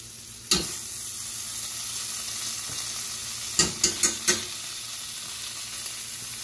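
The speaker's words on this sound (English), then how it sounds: "what I'm gonna do is I'm gonna add some butter." Butter sizzles and fries in a pan with steak, a steady close crackling hiss with a few sharp clinks and stirring taps, no voices.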